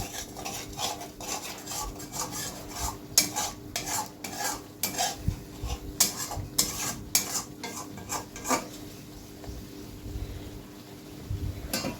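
Potato and eggplant being stirred and sautéed with spices in a pan, with a steady run of utensil scrapes and clatter over a soft sizzle, close and moderately loud, with no voices.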